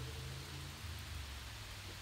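Rain falls on a rainy evening at sunset, heard from a porch as a steady, soft, even hiss with a low background hum and no voices.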